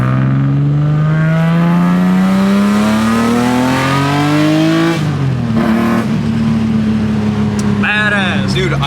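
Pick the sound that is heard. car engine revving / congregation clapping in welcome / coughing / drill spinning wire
car engine revving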